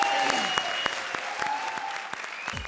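Live comedy show audience claps steadily in a brief burst of applause, dense and continuous throughout.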